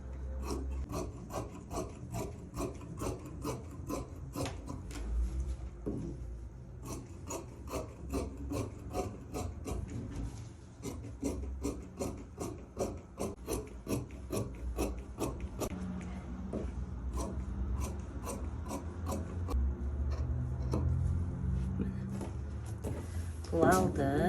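Scissors snipping through fabric while a skirt is cut out, a steady run of short, crisp cuts close up, fairly quiet, with soft handling noise and occasional talk.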